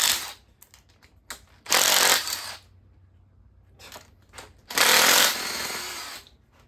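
An impact-style power tool runs in two loud, buzzing bursts of about a second each while fastening parts on a 1984 Chevy engine bottom end, with clicks and clinks of hand work in the quiet between.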